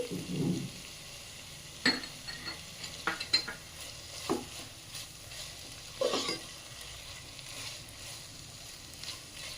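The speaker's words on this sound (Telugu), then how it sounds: "పుదీనా కూడా కాసేపు ఇలా ఫ్రై అయిన తర్వాత" Mint leaves frying with ginger garlic paste for tomato rice, a low steady sizzle broken by scattered spoon scrapes and clinks against the pan.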